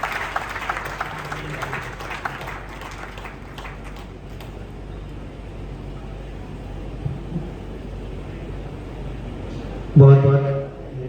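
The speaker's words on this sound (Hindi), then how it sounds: "आप सभी से अनुरोध है कि जोरदार तालियों के साथ उनका स्वागत करें।" Audience applause welcomes the host at a Hindi poetry recital, a steady spread of clapping across the hall that runs for about ten seconds before a voice cuts in with a brief louder burst.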